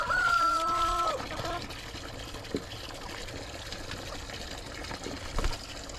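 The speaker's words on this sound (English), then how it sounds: "The old rooster don't belong with ices." A chocolate Maran rooster crows once at the start, a loud drawn-out call lasting about a second, followed by softer clucks and farmyard noise with a trickle of water underneath.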